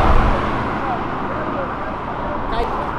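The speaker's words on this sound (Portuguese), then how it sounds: "Olha a Porsche!" A Porsche drives past on a street, a loud, steady rush of engine and road noise close by throughout, with faint voices in the background.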